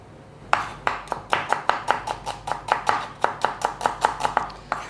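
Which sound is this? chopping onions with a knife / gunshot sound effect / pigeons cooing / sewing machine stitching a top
chopping onions with a knife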